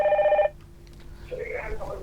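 An electronic phone ring sounds for about half a second, then cuts off. Faint room noise and a distant voice follow.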